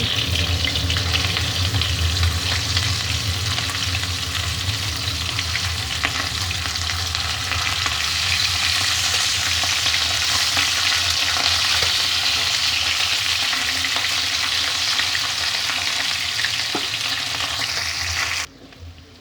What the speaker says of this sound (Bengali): একইভাবে এই মাছগুলো আমি ভেজে নিচ্ছি